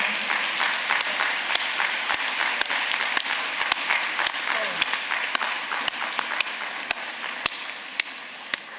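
A congregation at a funeral service claps steadily in sustained applause with sharp individual claps standing out, while speech is heard faintly underneath.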